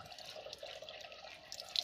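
Cold spring water runs and splashes as hands are washed at a grotto, a steady close trickle with light spattering and no talking.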